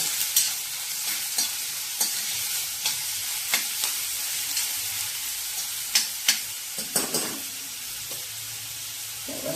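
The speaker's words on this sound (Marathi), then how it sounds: "आपण हे छान परतून घेऊया" Kurdu greens being sautéed with onion in a home kitchen pan: a steady soft sizzle of frying under repeated sharp scrapes and taps as a spoon stirs, close and alone without talk.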